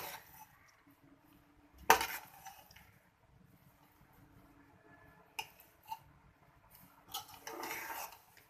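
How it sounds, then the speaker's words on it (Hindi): Chicken biryani being served from a cooking pot onto a plate, with a few sharp clinks of a spoon against metal and plate and soft scraping and rustling between them, close and fairly quiet, with no talking. "इस तरह इसको प्लेट में निकालें।"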